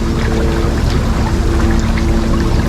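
Water trickling back from limu tanks into the Waikalua fishpond in Honolulu, Hawaii: a steady, close, continuous pouring and dribbling wash with a low hum underneath, no talk.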